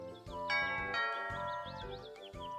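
A doorbell rings in a Winnie the Pooh video game at Owl's house, a run of bright chiming tones struck one after another with lingering ring, and no talking over it.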